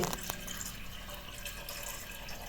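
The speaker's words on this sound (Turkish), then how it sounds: "Damla su." Water dripping and running at a kitchen tap during an evening home routine, a steady broadband wash with faint tapping drips, close and fairly constant with no talk.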